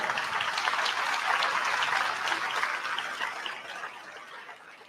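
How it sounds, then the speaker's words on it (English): Students clapping loudly for standing parents and guardians at a National Honor Society induction ceremony, dense sustained applause filling a hall and tapering slightly toward the end. "students, you better clap really loud for them"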